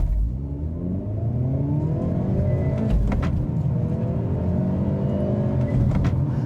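A 2025 Hyundai Elantra N with a six-speed manual pulls hard from a standstill toward 60 mph, its engine note rising loudly through the revs, dropping at a gear change and climbing again.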